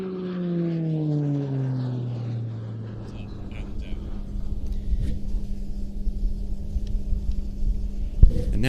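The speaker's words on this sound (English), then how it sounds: "And now the aircraft pulling to the vertical." An aerobatic propeller plane pulls up into a vertical climb at an airshow, its engine note sliding downward as it moves away, then giving way to a broad, rumbling drone with a distant commentator's voice.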